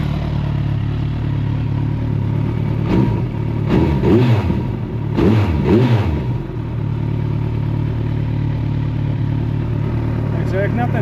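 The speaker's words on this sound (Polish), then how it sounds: "Silnik naprawdę pracuje mega aksamitnie." A Kawasaki GTR1400 motorcycle engine, in for service on its valves, timing and synchronization, idles up close and smooth, then is blipped in two or three quick revs before settling back to a steady idle.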